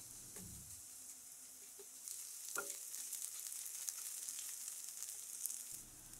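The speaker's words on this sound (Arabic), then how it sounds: "منضيف عليهم 4 حصوص ثوم مهروس ومنقلي الثوم شوية مع البصل" Crushed garlic and onions fry in oil with a faint, steady hiss of sizzling. A light stir or clink of the pan comes through the background.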